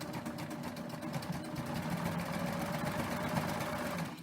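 Serger sewing machine running steadily as it stitches around the edge of a pillow, a continuous close mechanical whir with rapid rhythmic needle chatter throughout.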